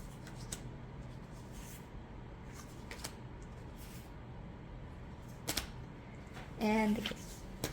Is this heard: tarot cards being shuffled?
yes